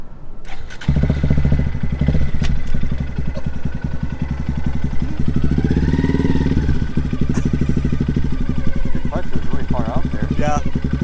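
Honda Grom motorcycle riding slowly during a low-speed exercise, a close, steady buzzing exhaust putter with slight rises in revs throughout.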